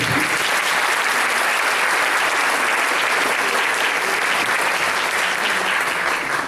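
Audience applause at a nutrition anniversary ceremony, loud and continuous, a thick sustained burst of many hands clapping throughout with no talk over it.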